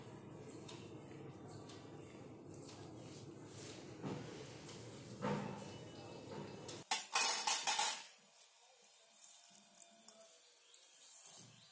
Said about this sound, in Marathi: व्यवस्थितपणे मेथीच्या भाजीमध्ये पूर्णपणे मीठ मिक्स करून घ्यायचे आणि नंतर हिरव्या मिरच्यासुद्धा आत्ताच ॲड करायचे मेथीच्या भाजीमध्ये